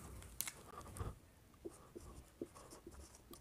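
Faint writing strokes during a lecture on RNA splicing, light scratchy taps and scrapes in an uneven rhythm, quiet and close with no talking.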